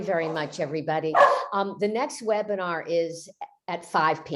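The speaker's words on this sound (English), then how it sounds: "That's my dog barking" A pet dog barks and yips in the background beneath continuous close speech, its calls mixed in with a voice during an online poetry gathering.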